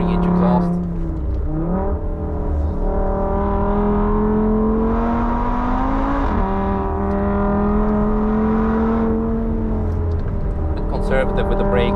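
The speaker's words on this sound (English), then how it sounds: "you can hear the Daza engine 3-inch exhaust" A 2.5L VW Passat engine breathing through a 3-inch exhaust on the Nürburgring drones loudly and steadily from onboard, its pitch climbing and dropping smoothly through the revs.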